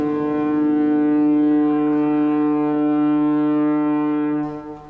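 A ship's horn sounds one long, steady, loud blast lasting several seconds, a deep sustained tone that fades out at the end.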